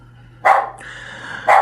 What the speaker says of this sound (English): I woke up because my damn dog keeps barking